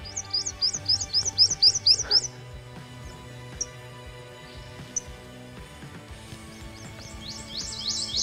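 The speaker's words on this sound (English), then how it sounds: "What a beautiful little bird." A small bird near a person's home gives a quick burst of rapid, bright chirps at the start, then falls quiet, with a few faint single notes and a soft chirping return at the end.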